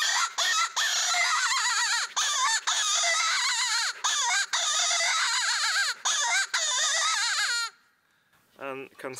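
Klausen No. 4 predator call blown to imitate a distressed hare, a loud wavering squealing cry in repeated bursts with short breaths between, then fading to a few fainter squeaks at the end.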